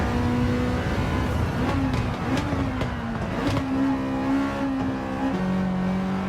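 A race car engine on a track in Gran Turismo 7, a loud sustained engine drone whose pitch climbs and dips through gear shifts, with brief sharp bursts as the car is pushed hard.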